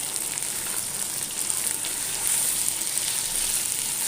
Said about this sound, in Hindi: अब मैं इसके अंदर आधा किलो चिकन डाल दूंगी और चिकन को जब तक फ्राई करूंगी तब तक चिकन का कलर चेंज ना हो जाए।